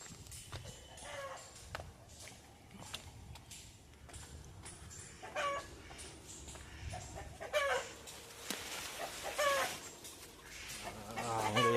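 Several chickens cluck and chatter nearby over a continuous farmyard background, with occasional louder calls and scattered bumps and rustles.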